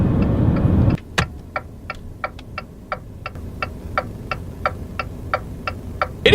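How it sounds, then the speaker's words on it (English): Turn signal of a 2019 Jeep Renegade ticks loud and echoey in the cabin, a steady, even run of about fifteen crisp clicks after a brief engine hum cuts off. "It is probably the loudest turn signal that I've ever experienced in a car, and it's kind of echoey as well"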